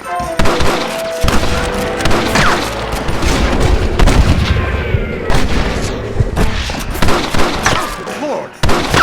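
Gunshots crack in a dense Red Dead Redemption shootout, with a sniper firing from a window, bursting loud and close in irregular volleys over continuous battle noise.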